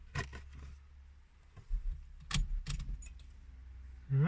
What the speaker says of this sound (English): Turn the vehicle ignition on.